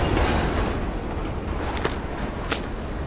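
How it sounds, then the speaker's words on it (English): A train rides on rails in Call of Duty Black Ops Cold War, slowing toward an abandoned East German station, with a loud steady rumble and occasional faint metallic clacks and squeals. "Train's slowing down."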